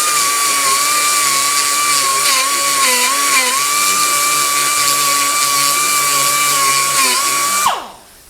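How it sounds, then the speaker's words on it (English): A rotary burr grinds into metal with a loud, steady high-pitched whine that wavers slightly in pitch as pressure changes, then cuts off abruptly near the end. "Now we're going to reach in behind here with the rotary burr"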